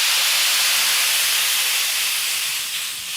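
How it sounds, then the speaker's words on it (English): Dry white wine poured into a hot pan just taken off the heat sets off a loud, steady hiss of steam and sizzle that holds for about three seconds and fades slightly at the end, with no talking. "I'm going to take the pan off the heat and add the wine to it."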